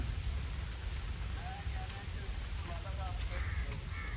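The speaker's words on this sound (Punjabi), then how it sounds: "ਪਿੰਡ ਚੰਗਾ ਤਕੜਾ ਮੀਂਹ ਪੈ ਰਿਹਾ" Heavy rain falls across a Punjabi village, a dense, steady hiss of downpour with low rumble, broken by a few faint bird calls in the distance.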